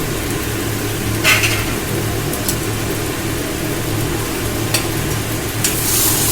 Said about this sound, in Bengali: এবার ধনেপাতাটা ভালো করে আমি মিশিয়ে নেব।